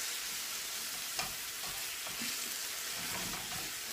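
Ratatouille sauce simmers in a hot pan as stock goes in, giving a continuous hissing sizzle. Faint scraping stir strokes and light clinks sound close by throughout, with no voices.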